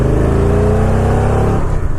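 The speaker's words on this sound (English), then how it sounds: "This is definitely a quieter bike" A Victory Cross Country motorcycle engine, a fairly quiet bike, runs in a loud, steady, low drone heard close up while riding, with its pitch easing down slightly near the end and no talk over it.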